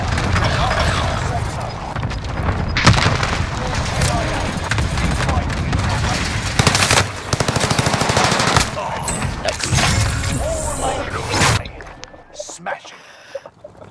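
Rapid bursts of automatic gunfire and single shots crackle almost nonstop in a Warzone match, loud and close. The crackling breaks off near the end. Players talk over it at times.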